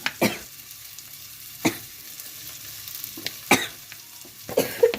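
Green chillies sizzle in a pan while being stirred for Maggi noodles, soft frying hiss under a few sharp scraping stirs and clanks of the utensil against the pan.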